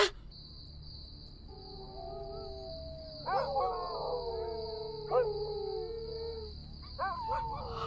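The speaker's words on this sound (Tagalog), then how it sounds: "biglang umalulong ang mga aso sa kapitbahay" Neighbourhood dogs howl in drawn-out wavering cries with several overlapping voices, moderately distant, over a steady high insect drone at night, with sharper yelps rising at intervals.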